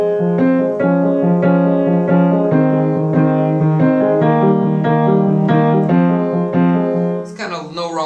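Piano chords from a song broken into single notes played one after another in a steady pulse, close and clear, with a voice briefly starting at the end.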